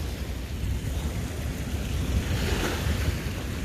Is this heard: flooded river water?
yes